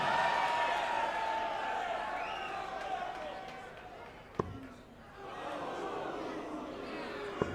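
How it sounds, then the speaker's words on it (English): A darts crowd at the Players Championship Finals boos in a big arena, a broad, sustained rumble of voices that swells, dips around a sharp thud, then rises again under a commentator's voice. "Listen to the boos of the crowd."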